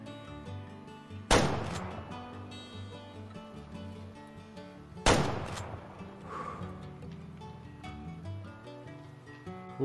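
Two loud rifle shots in a hunting video game, each a sharp crack followed by a rolling echo that fades slowly, spaced about four seconds apart over a quiet outdoor ambience.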